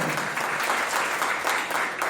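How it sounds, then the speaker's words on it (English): An audience claps and cheers continuously at a live cultural event at a university, a dense steady roar of applause with no pauses. "I would like to give a big round of applause to everyone here"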